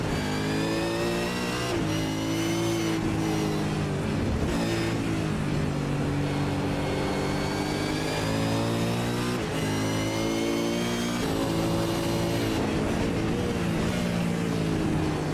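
A V8 Supercar howls through the gears in a racing simulator at Oschersleben, its loud, constant engine note rising and dropping with each shift and throttle lift.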